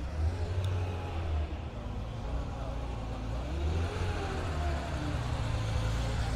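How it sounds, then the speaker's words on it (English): A Porsche Carrera pulling up, a steady low engine hum with broadband road and traffic noise that holds throughout at moderate distance. "Got a Carrera pulling up here."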